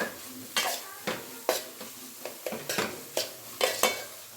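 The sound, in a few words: chili powder frying with tomato and onion in a pan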